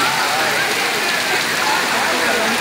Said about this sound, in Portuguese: O centro de Baixa Grande tá sendo inundado com tanta chuva inesperada